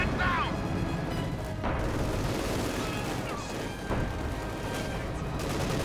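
Tanks fire their main guns in a Company of Heroes 2 battle, with booming shots and explosions over a dense rumbling din of combat and a commentator talking throughout.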